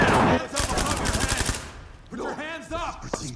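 A rapid burst of automatic gunfire in the video game Ready or Not rattles for over a second, followed by a voice talking.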